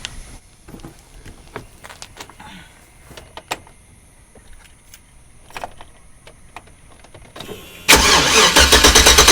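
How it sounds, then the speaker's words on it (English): A 2008 GMC Sierra truck engine with a freshly fitted mass airflow sensor is cranked over near the microphone, after scattered quiet clicks, then catches and roars into a loud, steady run for the final seconds. "let's crank it and see what happens"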